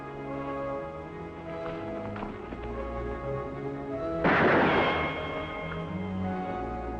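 A single sharp gunshot cracks out over a dense bed of background music in a Roy Rogers western, followed by a brief noisy burst that fades back into the music.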